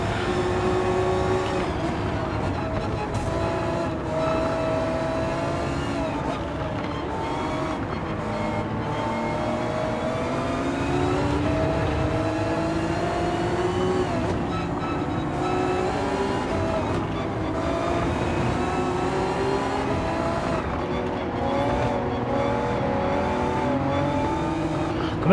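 A Nissan GT-R race car engine in Gran Turismo 7 at Suzuka drones steadily at high revs, with shifting pitch as it pulls down the straight and other cars audible nearby, continuous and loud throughout.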